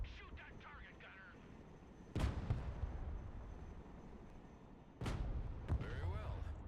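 Two heavy tank gun shots in the Broken Arrow video game, each a sharp loud blast with a long rumbling tail, spaced about three seconds apart over steady engine and battlefield ambience.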